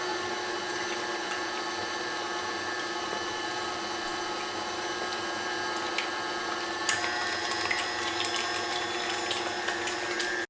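A stand mixer whirs steadily while beating torta caprese batter, a constant close motor hum with a faint whine, joined near the end by a slightly brighter rattling texture.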